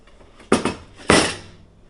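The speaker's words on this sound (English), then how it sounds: "lemon skins that we are going to throw into our compost bin" Two quick thuds, the first a double knock, as lemon skins drop into a compost bin nearby, followed by quiet.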